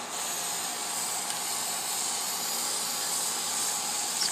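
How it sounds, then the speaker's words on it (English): An aerosol spray can applies acrylic coating to a finished project outdoors, producing a continuous, steady hiss that holds level and close for the whole stretch without pause. "spray a generous amount on it and let it dry."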